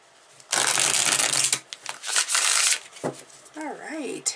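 A Psychic Tarot deck is shuffled in a long, dense riffle of cards, with short bursts of card rustling after it and a voice speaking near the end.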